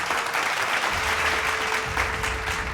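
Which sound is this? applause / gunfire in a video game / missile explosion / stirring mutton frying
applause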